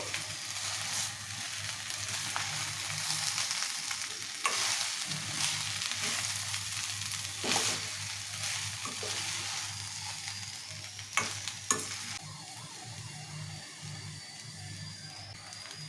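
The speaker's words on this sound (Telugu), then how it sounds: "రైస్ మొత్తం బాగా అరిపేసుకోవాలి" Cooked rice is stirred in a frying pan for soya chunk fried rice, giving a steady close sizzle broken by intermittent scraping and tapping of the spoon against the pan.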